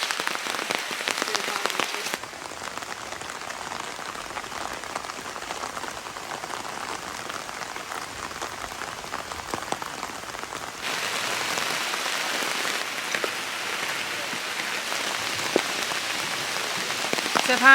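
Steady rain pours down in the Amazon rainforest, a dense continuous hiss of drops pattering on surfaces that holds evenly throughout, close and fairly loud with no talking.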